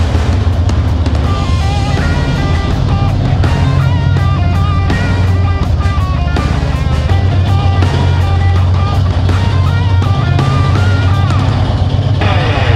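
A Harley-Davidson Heritage motorcycle on the road gives a continuous low engine rumble, with busier, layered sound sitting above it the whole time.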